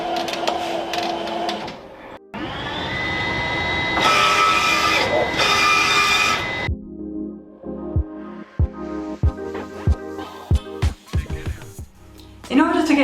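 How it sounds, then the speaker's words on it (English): Epson inkjet printer outputting screen printing film: a loud sustained whirring print pass with carriage hum, followed by a run of sharp clicks and mechanical knocks as the film feeds, with speech mixed in at times. "I'm ready to press print and output my film."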